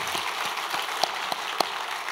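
Audience applause at a church Christmas festival service, a steady, even wash of many hands clapping, with a few sharper individual claps standing out above it.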